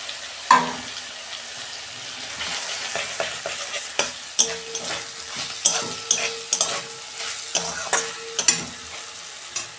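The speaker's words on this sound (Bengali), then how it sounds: "এই যে আদা রসুনের পেস্ট দিচ্ছি।" Ginger garlic paste frying in oil in a pan, with a crackling sizzle and a run of sharp, repeated clacks as a spoon stirs and scrapes, close and fairly loud, with no voices.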